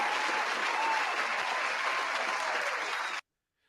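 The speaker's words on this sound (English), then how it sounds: "By the way, you get applause." Canned crowd applause, fairly loud and continuous, cutting off abruptly to silence near the end.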